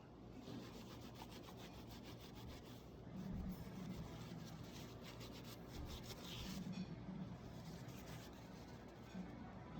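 Cloth wiping marks off a trimmed plastic trike part with brake cleaner, a continuous soft rubbing and scuffing in uneven back-and-forth strokes, close and fairly quiet with no talking.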